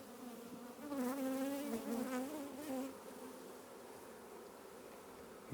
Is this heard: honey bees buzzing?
yes